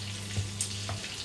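Prawns frying in butter in a pan give a soft, steady sizzle close up, with a low hum underneath and a couple of faint clinks, and no voices.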